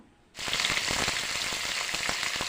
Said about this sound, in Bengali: এখন আমি ভেজে নিচ্ছি মাছের মাথা